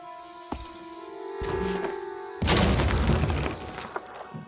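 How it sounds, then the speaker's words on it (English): A Boom Blast explosive strike in the Phoenix Point strategy game goes off near a building: a short snap, a rising whoosh, then a loud crashing blast with shattering debris that fades over about a second. "I'm gonna see if Mike can do some damage to this enemy next to this building using Boom Blast"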